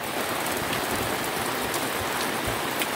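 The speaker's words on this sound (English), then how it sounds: "It's raining that way." Steady rain falls at a lakeside campsite at Bass Lake in Michigan's Upper Peninsula, a dense continuous hiss of drops drumming on nearby surfaces with occasional louder close splats, no voices.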